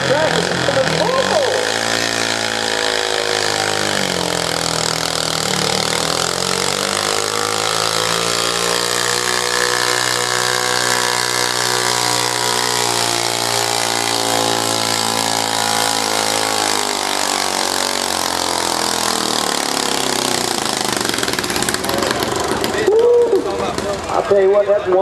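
A pulling truck's engine roars loudly at a county fair truck and lawnmower pull, rising and falling in pitch as it strains forward, with an announcer talking over it.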